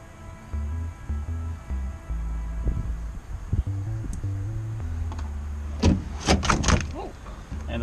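A rear spoiler panel slides off a 2014 Subaru WRX with short scraping, sliding plastic noises and a few knocks, close by, followed by a cluster of sharp clicks and taps near the end, under a low steady hum.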